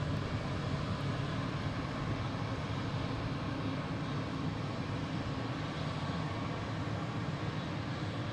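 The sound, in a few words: Delta passenger jet, flight 112 to Rome, at Boston Logan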